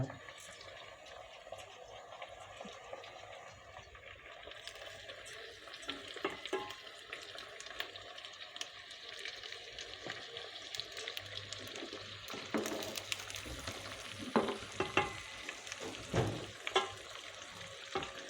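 Half the rice is poured into a pot for maklube pilaf, giving a rustling, pattering rush that grows busier toward the end over faint kitchen background noise.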